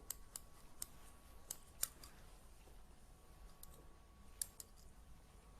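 Scissors snipping hair during a layered cut in a salon, a series of sharp, quiet clicks spaced irregularly over a soft background hiss.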